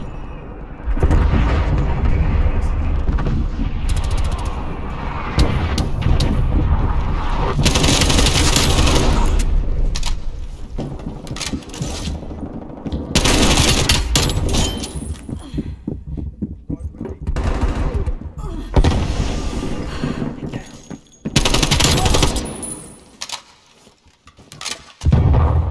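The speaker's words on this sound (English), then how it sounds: "Hostile artillery targeting active." Heavy gunfire and artillery blasts in a Call of Duty Black Ops Cold War free-for-all match, with dense, loud bursts of shots and booms running almost continuously, brief lulls, and short in-game announcer lines.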